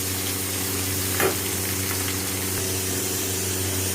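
Chopped tomatoes fry in a pan for a dhaba-style egg chicken tarka, giving a steady, even sizzle with one brief knock partway through.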